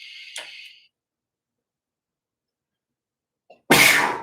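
One sharp, close sneeze bursts out near the end after a long silence, loud and breathy, following a brief faint sound at the start.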